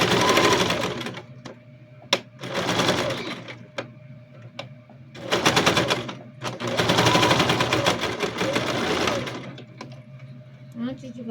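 A sewing machine runs a safety stitch on a child's backpack in several short, loud bursts separated by brief pauses, with sharp clicks between runs and some talking in between.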